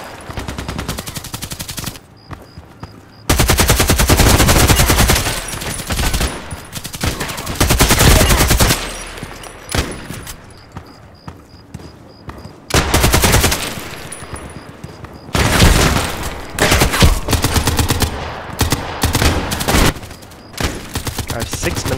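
AK-12 assault rifle fire in the online shooter Contract Wars, loud repeated bursts of automatic gunfire with brief pauses between volleys, close and dominant throughout.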